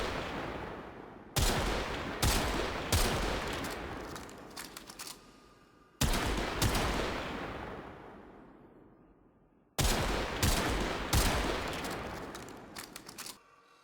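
The Rubico Prime sniper rifle in Warframe fires a handful of loud, booming shots in spaced clusters, each crack trailing off in a long, fading echo before the next.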